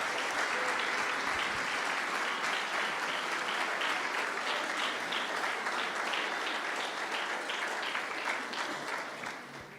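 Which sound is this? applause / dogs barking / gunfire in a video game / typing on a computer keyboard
applause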